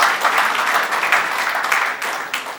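Audience applause at a radio station's charity award ceremony for trophy presentations: a sustained, dense crowd clapping that holds steady for a few seconds, fairly close and loud.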